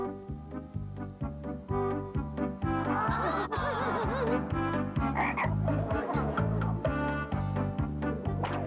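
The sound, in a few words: frog croaking in a cartoon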